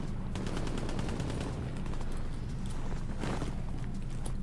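Gunfire in the World War II video game Hell Let Loose at Omaha Beach, with a few sharp shots standing out over a continuous, dense background of distant battle noise.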